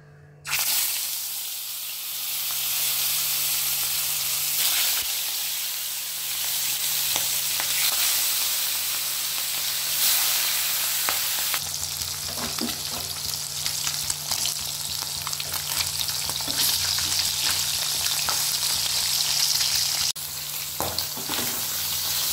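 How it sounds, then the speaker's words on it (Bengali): Rohu fish frying in hot oil, a loud continuous sizzle close by with occasional crackles and stirring scrapes, lasting throughout. "তেলটা গরম হয়ে গেছে, আমি একে একে মাছগুলো ছেড়ে দেব।"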